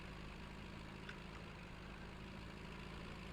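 A Mercedes-Benz tractor engine idles steadily in a lumberjack simulation game, a low continuous rumble that holds constant and fairly quiet throughout without any revving.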